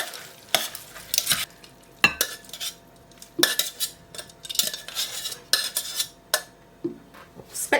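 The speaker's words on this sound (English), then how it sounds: "Just give it another stir." Homemade ramen with spinach being stirred in a pot, a run of repeated scraping and clinking utensil strokes against the pot over a soft cooking background, no talking.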